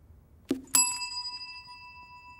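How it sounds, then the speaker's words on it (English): During a reaction-time test, a hand strikes a bell once. A soft thud comes just before the clear, close ding, which rings on steadily and fades slowly. No one speaks. "As soon as I release the ball, Jamie is going to hit the bell"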